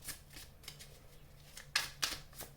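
Tarot cards shuffled by hand for a reading, a run of soft riffling bursts with a couple of sharper, louder snaps near the end, close and quiet with no speech over them.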